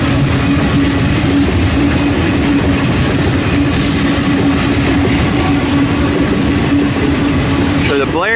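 Eastbound freight train rolling toward Omaha and Council Bluffs, a loud, close, continuous rumble with rhythmic clattering wheels and a brief rising squeal near the end, with voices faintly underneath.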